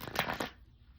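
Tarot cards riffled and shuffled by hand in a few quick broadband bursts over the first half second, then fading to quiet room tone, with no talking.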